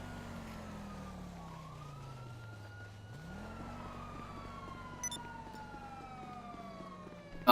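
Police car siren in a video game, a faint wailing tone that sweeps down, dips, then climbs again over a low engine hum, with a short sharp clatter at the very end.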